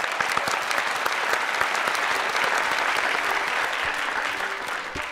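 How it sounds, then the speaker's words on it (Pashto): A studio audience applauds steadily to welcome a military and political analyst onto a Pashto talk show, with dense, sustained clapping filling the space throughout. "یو جګ چکچک سره راغواړو"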